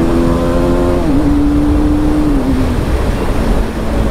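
A KTM motorcycle engine roars loudly and steadily during a road race, its revving pitch holding, dipping briefly and shifting, with dense wind and road rumble and no talking.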